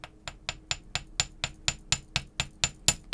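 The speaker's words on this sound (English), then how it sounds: "You never want to hit the overlapping section with your hammer." A jeweller's hammer strikes 20 gauge wire on a steel bench block while shaping an earring, about thirteen crisp, evenly spaced metallic taps in a steady rhythm, close and alone.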